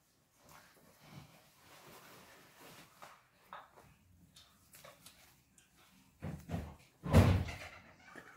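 A door closes indoors with a firm thud near the end, preceded by quieter shuffling and small knocks at low volume.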